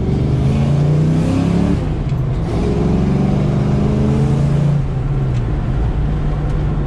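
A loud stock car engine revs and accelerates close to the microphone, a steady heavy roar with shifting pitch as it pulls, then holds a constant drone.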